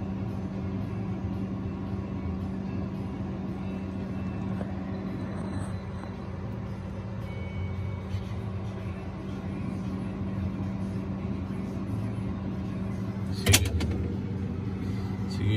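A refrigerator ice maker's motor turns its wheel through a reset cycle, giving a steady, close mechanical hum that runs unbroken, with one brief sharp knock near the end.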